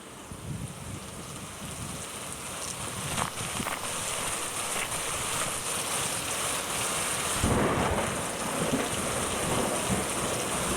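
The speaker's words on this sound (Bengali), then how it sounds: "আরে বৃষ্টি তো দেখি অনেক।" Heavy rain pours steadily as a dense, continuous broadband wash, with a brief louder gust-like surge near the end and no voices.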